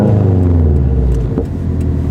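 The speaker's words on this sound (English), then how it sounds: "Should I rev it to show him that I'm here?" A car engine revs up loudly and close by, a deep steady rumble swelling then easing back to idle, with no one speaking over it.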